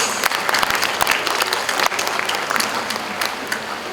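A crowd applauds at a NAAC celebration as faculty members are introduced, loud, dense clapping sustained throughout with scattered sharper claps standing out.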